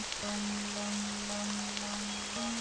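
Steady, even rain falls in the video game Forest of Drizzling Rain, a constant soft hiss with a faint tonal hum underneath, no voices.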